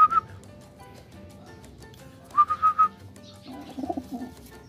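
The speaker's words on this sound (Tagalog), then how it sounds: "Then ayan mga kalapatids, yung ating second clutch ni Grizel na" Pigeons in a loft, soft low cooing near the end along with brief whistle-like calls, close and fairly quiet with no talking.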